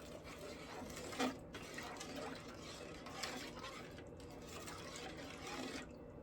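A pot of water comes to the boil for pickling zucchini, giving a faint, steady bubbling hiss with occasional soft drips and small clinks, quiet and close.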